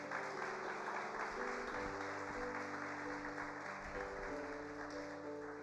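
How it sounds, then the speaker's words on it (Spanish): A church congregation applauds during a sermon: a faint, steady wash of clapping from many hands, with a low tonal hum beneath it. "Denle un aplauso."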